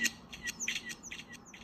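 Recorded bird call sampled and run through a delay effect for a music track, rapid bright chirps repeating and echoing at a quick rhythm, clear and close with no voices.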